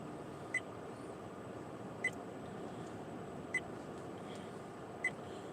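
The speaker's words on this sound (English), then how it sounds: "if my dash cam is not on and running, it will constantly beep like that" A faint, high electronic beep repeats at steady intervals of about one and a half seconds, four times, over a low background hum.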